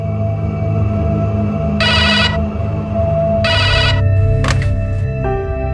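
A telephone bell rings in two long electronic bursts over a steady hum of room noise, with a brief higher chirp following.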